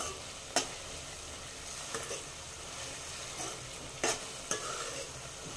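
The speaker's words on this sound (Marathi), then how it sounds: "आपण आता हे न झाकता छान परतून घेऊया" Methi matar malai gravy sautéing uncovered in a pan, a steady soft sizzle and frying crackle with a few sharp stirring scrapes and clinks scattered through, close and moderately quiet.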